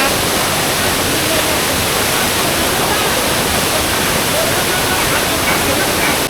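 A waterfall on a forest trail rushes in a loud, steady, unbroken roar that fills the whole scene, with no breaks or voices over it.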